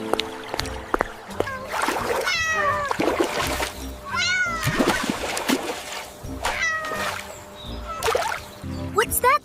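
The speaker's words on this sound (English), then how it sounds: "Oh no, look! There's a cat in the water!" A kitten in the water meows repeatedly in short, rising cries, spaced across the moment amid faint splashing and sloshing, with a voice speaking alongside.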